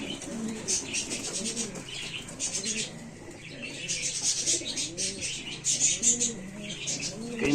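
Homing pigeons coo in a pigeon loft on a farm, with soft repeated rolling coos, wing flutters and faint chirps close by, while people talk quietly in the background.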